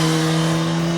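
A 2016 Suzuki GSX-S1000 ABS motorcycle engine drones steadily under throttle, a loud, close, sustained tone with a strong low hum and no talk.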